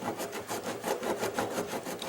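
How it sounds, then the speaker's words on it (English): A hand file rasping a polypropylene horse water tank, close rhythmic back-and-forth strokes at about four per second, even and steady with no talking. "I'm just going to file some of this polypropylene here"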